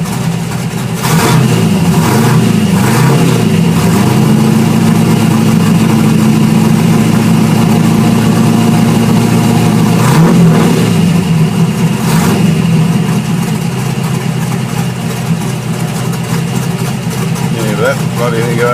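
A VC Commodore track car engine runs loud and steady throughout, holding a rough idle with a few blips of revving, while people talk over it.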